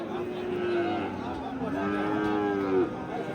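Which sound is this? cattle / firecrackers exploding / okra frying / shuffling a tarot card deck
cattle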